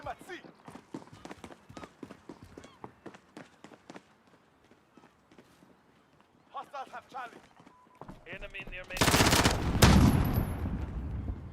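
AK rifle gunfire in a video game: rapid cracking shots early on, then a loud, dense blast of fire near the end, with a player's voice talking in between.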